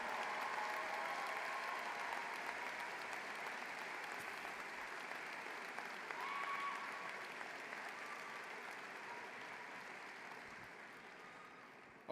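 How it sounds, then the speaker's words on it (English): A large commencement crowd applauds first-generation graduates, a dense, steady wash of clapping that holds for the full stretch and slowly tapers toward the end, with a faint voice briefly audible underneath. "Give them a round of applause."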